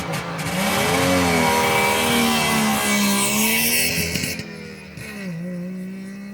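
A 1967 Saab 96 with a two-stroke engine drives close by, its buzzy engine note rising and falling through gear changes and easing off toward the end, loud and steady with no talk.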